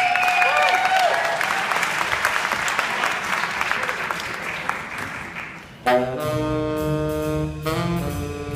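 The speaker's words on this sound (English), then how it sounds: "Big round of applause." Audience applause for an Eckstein Middle School senior jazz band, a loud sustained clapping crowd that gives way after a few seconds to the band starting up with bright sustained horn chords.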